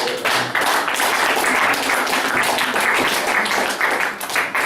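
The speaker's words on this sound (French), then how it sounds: "Acclamation pour le Seigneur" Loud, energetic applause from a church congregation acclaiming the Lord during a sermon, a continuous wash of many clapping hands with slight dips near the end.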